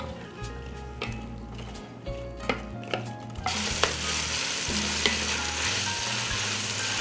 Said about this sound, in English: We'll saute until soft for about a minute or 2.